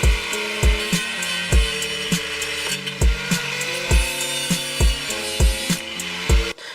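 Metal being cut back by hand for tire clearance, a steady series of about a dozen rhythmic rasping saw strokes with a ringing metallic edge, close and fairly loud, with no talk.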